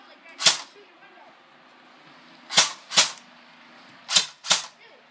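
Airsoft guns fire five sharp, loud single shots outdoors: one, a pause of two seconds, then a quick pair, and later another close pair, each a short crack over a quiet background.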